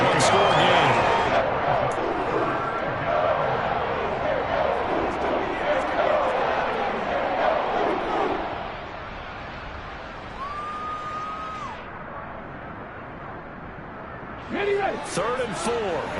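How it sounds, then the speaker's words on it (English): Football stadium crowd roars steadily in the fourth quarter, a loud sustained wash of cheering and noise for the defense that eases somewhat midway, with a short whistle-like tone and a late swell. "this crowd urging on their defense. They're up and making noise."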